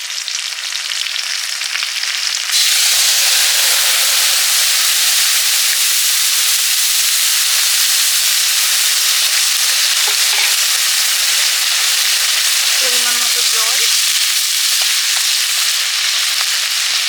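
Mustard and poppy seed paste with turmeric and black cumin sizzles steadily in a hot pan of oil, a loud continuous frying hiss with occasional stirring scrapes and no talking.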